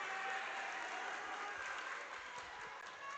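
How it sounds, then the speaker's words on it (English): Scattered spectators clapping at a high school boys basketball game in a sparse gym, a thin steady patter of applause heard from a distance, quiet and continuous. "the few Laredo spectators that are here are applauding that"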